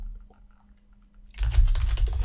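Typing on a computer keyboard, a quiet stretch giving way to a steady, fairly loud run of rapid close-up keystrokes.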